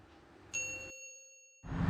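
A single bright electronic ding rings out with a clean ringing tone, cutting through background noise, then fades before louder noise returns.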